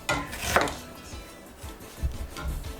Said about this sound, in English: I'm gonna prepare the onion now.